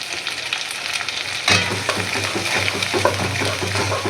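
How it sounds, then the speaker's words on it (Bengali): Onions frying in hot oil with ginger garlic paste added, a steady close sizzle with stirring scrapes that grows denser partway through. "পেঁয়াজটা ভাজা ভাজা হয়ে গেছে পেঁয়াজ দিয়ে দিছি সামান্য একটু আদা রসুন বাটা দিয়ে দিছি"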